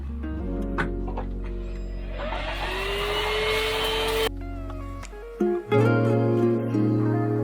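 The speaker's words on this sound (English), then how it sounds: "now we're gonna vacuum the whole interior" A vacuum cleaner whines steadily with a rising pitch inside a Toyota AE86's interior, joined by engine-like hum and shifting motor tones, fairly loud and close.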